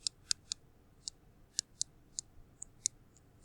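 A marker squeaks and taps against a classroom board in short, separate strokes, about a dozen sharp clicks spread unevenly over a few seconds, close and fairly faint with no talking.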